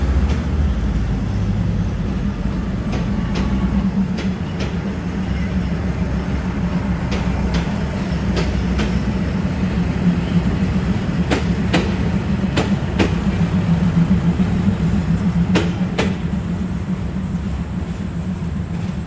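Suburban train 383 pulling into Bangkok's Hua Lamphong station, a loud, continuous low rumble of rolling stock with repeated clicks of wheels over rail joints and faint squeals, no talking.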